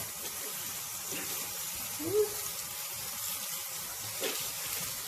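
Running tap water pours steadily into a sink as a makeup remover cloth is rinsed, a soft continuous hiss with faint splashes.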